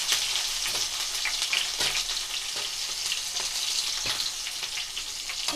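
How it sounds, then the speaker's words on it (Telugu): Onions sizzle in hot oil with dried red chilies and curry leaves, a steady close crackling hiss with occasional stirring clicks throughout, no voices. "ఇప్పుడు వీటన్నిటిని మంచిగా గోల్డెన్ కలర్ వచ్చే వరకు అయితే ఫ్రై చేసుకున్నాం"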